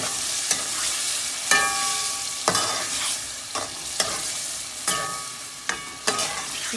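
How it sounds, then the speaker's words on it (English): Sofrito with onions, garlic and greens sizzles in a pot for arroz con gandules while a spoon stirs it, scraping in regular strokes roughly once a second over a steady frying hiss, close and with no voices. "Let me keep stirring this."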